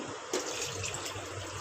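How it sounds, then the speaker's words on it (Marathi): Water pours from a pot into chicken curry in a home kitchen, a soft, steady splashing trickle, fairly quiet and close. "आता आपण याच्यामध्ये ना पाणी घालूया."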